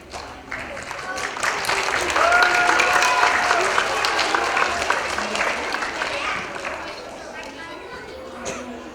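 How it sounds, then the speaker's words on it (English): Children and adults clap at an elementary school character education assembly for pre-K to third grade award recipients, the applause swelling, holding, then tapering, with chatter and a speaking voice mixed in. "I love hearing all the applause for our friends that are getting these special awards"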